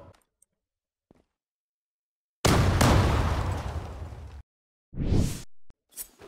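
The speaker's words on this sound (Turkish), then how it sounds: "Attınız bombayı." A grenade explodes in the online shooter Zula on the Safranbolu map: after near silence, a loud, close blast roars and fades over two seconds, followed by shorter bursts of gunfire-like noise.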